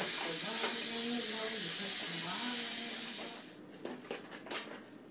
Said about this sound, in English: the butter is melting